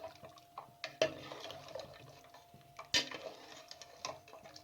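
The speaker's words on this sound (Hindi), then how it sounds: "अब इसके अंदर जो मैदा और बेसन का बैटर तैयार किया था वो आहिस्ता आहिस्ता डालते जाएं और साथ में बराबर चम्मच हिलाएं" A spoon clinks and scrapes against a pot while flour and gram-flour batter is slowly poured into simmering beef nihari, with soft liquid sloshing between a few sharper taps, quiet and close.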